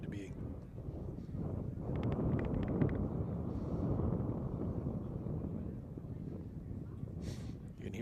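Strong wind gusting across an outdoor soccer field during a boys' high school regional final, a steady low rumbling roar buffeting the microphone, with brief faint sounds on top.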